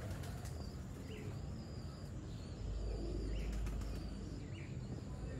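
Pigeons of a mixed breed crossing Colonel and black-faced birds, with soft cooing and a few flutters of wings against a steady low outdoor rumble.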